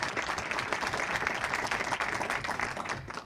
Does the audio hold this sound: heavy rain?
no